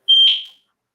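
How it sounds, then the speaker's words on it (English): A fire alarm emits one loud, piercing electronic beep, sharp and close, that rings briefly and then fades into silence. "There's a fire alarm going off."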